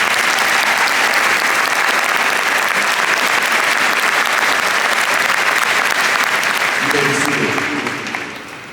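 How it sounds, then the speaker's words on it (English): A graduation audience claps steadily in a large hall, dense and loud, fading toward the end as a voice begins to speak. "join me in giving them all a round of applause for their efforts"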